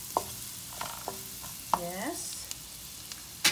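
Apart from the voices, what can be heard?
stirring onion and garlic frying in a pan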